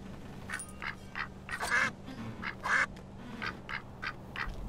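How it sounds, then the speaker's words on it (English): Repeated quacking from the duck cap item in the Lego Hobbit video game, a string of short nasal duck calls in an irregular rhythm over a low steady game hum, with no talking. "Quacks."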